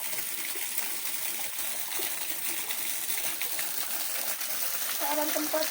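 Water pours steadily from a remote two-tiered forest waterfall at Hutan Leila, Sandakan, a constant near rushing hiss with splashing throughout, rising slightly near the end.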